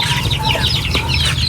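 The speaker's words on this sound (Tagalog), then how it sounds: "So ito na yung mga manok." Several chickens cluck and chatter in a busy, continuous flurry of short calls, fairly close, with a low steady hum underneath.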